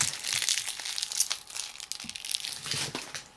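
Plastic packaging of a Weiss Schwarz Sword Art Online II trial card deck is ripped and crinkled open, a close, continuous crackling tear.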